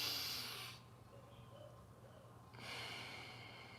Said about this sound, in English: you may just simply do all left nostril breathing